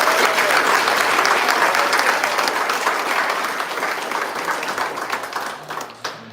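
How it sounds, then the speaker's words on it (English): A large crowd applauds loudly and steadily, the clapping slowly thinning out toward the end. "Let's give him a round of applause."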